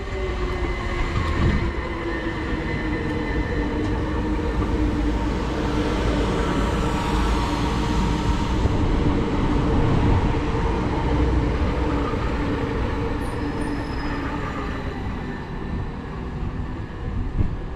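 A British Rail Class 377 passenger train, 377131 to Portsmouth Harbour, rumbles steadily through a West Coastway Line station at close range, a continuous loud roar of wheels and motors with squealing overtones, no voices.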